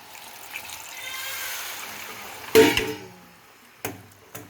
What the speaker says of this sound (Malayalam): ഇനി നമുക്ക് വെള്ളം ഒഴിച്ച് മിക്സ് ആക്കാം.